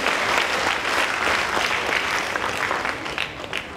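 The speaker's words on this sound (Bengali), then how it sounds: "আরো জোরে করতালি চাইছি।" Dense, steady applause from the audience at a cultural ceremony, loud and continuous throughout with no talking, tapering slightly at the end.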